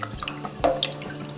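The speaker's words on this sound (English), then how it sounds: "we're gonna add another 2 cups of water" Water poured into a soup pot for a keto chicken pho broth, a brief close trickle and splash with dripping sounds, no talking.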